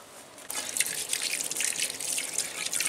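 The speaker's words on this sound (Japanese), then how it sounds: "水場で、洗っていきます。" Okinawan thistle greens (shima azami) rinsed under running water at an outdoor tap, a steady close splashing gush with dripping that starts abruptly and continues without talk.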